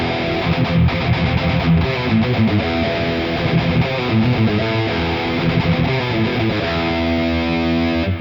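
Heavily distorted electric guitar through a Valeton GP-50 with delay and reverb, playing chords and riffs, thick and saturated with delay and reverb trails, loud and continuous.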